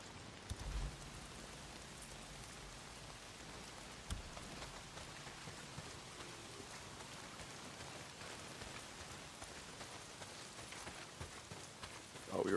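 Heavy rain in the video game Days Gone hisses steadily and fairly quietly throughout, with a soft patter of drops and no voices.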